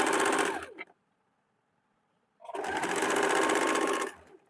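A sewing machine stitches the side seam of a two-piece blouse in two loud, fast-running bursts separated by a short pause of near silence.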